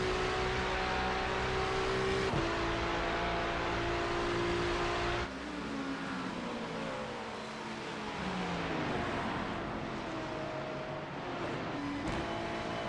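Race cars in a racing video game, a Porsche and a Ferrari among them, give a steady, loud engine whine that rises and falls through gear shifts, with no talking.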